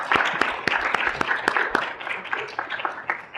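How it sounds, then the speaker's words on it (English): Brief applause from a public health ethics forum audience thanking the presenters, with distinct claps that are dense at first, then thin and fade toward the end. "please give our presenters a round of applause."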